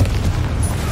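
A Confringo explosive spell in Hogwarts Legacy gives a brief, loud, deep boom with a dense low rumble that stays strong through the short burst, alone and without talk.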